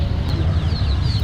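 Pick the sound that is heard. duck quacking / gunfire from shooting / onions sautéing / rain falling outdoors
duck quacking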